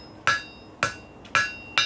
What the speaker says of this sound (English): You can push and pull with the hammer.